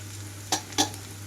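Cauliflower and broad beans fry with onions in a pan over a low flame. Two quick stirring scrapes sound close over a faint, steady sizzle.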